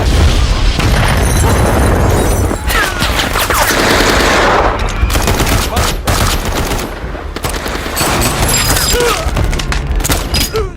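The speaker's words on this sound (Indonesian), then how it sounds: "Ketika yang lain baku tembak" A film shootout roars with dense, sustained machine-gun fire and heavy explosions from grenades, loud and continuous for the whole stretch with booming impacts layered through the bursts.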